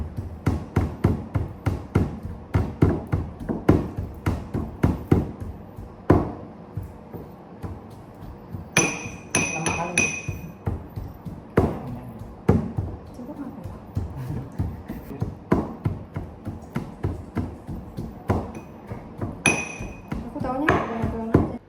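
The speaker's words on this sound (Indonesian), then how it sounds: "di sini kita tumbuk kulitnya dengan halus ya, sebelum kita memasuki tahap penyangraian" Oil palm fruit skins pounded finely, a series of hard rhythmic thuds repeating at a steady pace, with a few brief sharper metallic pings mixed in and talking at times.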